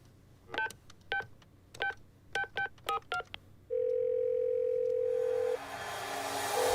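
A string of short touch-tone beeps dialing a number, followed by a steady ringing tone and rising hiss.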